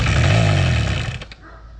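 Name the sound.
old motorcycle engine briefly running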